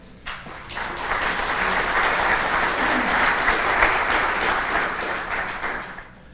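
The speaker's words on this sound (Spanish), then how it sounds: "Un aplauso, por favor." Steady audience applause, a dense wash of many hands clapping that swells quickly and holds for several seconds before fading.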